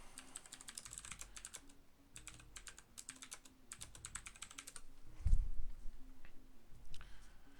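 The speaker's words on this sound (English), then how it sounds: "I was typing at him." Rapid bursts of clacking on a computer keyboard come in irregular runs with short pauses, close and crisp, with a dull thump partway through.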